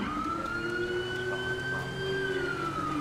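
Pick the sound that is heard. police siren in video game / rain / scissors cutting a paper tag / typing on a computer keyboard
police siren in video game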